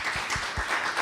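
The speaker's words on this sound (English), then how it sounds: "Please give him a round of applause" Studio audience at a music masterclass giving a DJ a round of applause, a brief dense patter of clapping with a few low thumps underneath.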